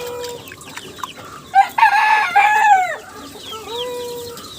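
A rooster on a backyard poultry farm crows loudly and close in one long drawn-out call, while hens cluck and chatter around it before and after.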